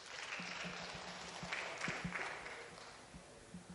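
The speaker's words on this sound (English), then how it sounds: "Let's clap for her." Applause from a seminar audience for a participant who has just shared, steady and moderately distant, with a faint voice underneath.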